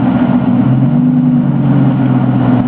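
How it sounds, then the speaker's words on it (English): A Ford Shelby Cobra GTR engine holds a loud, steady low rumble with a sustained throbbing drone and no break, heard alone. "Listen to that engine."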